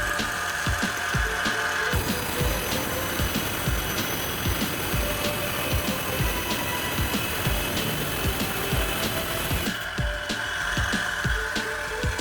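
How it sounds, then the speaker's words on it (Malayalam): A power cutter slices through a waste piece of granite slab at a 45-degree V angle, a loud, sustained grinding roar with dense gritty rasping that holds steady for about eight seconds before easing off. "നമുക്കൊരു വേസ്റ്റ് പീസ് എടുത്ത് ഒന്ന് കട്ട് ചെയ്ത് നോക്കാം"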